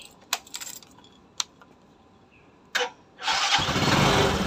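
A few clicks and taps are followed by a Kawasaki motorcycle engine that is cold but fires on the first press after a spark plug change, catching abruptly and settling into a loud, steady idle up close.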